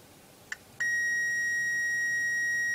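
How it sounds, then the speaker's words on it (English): A quick click, then a multimeter's steady high-pitched continuity beep starts and holds continuously, clear and close in a quiet room. "hear that beep?"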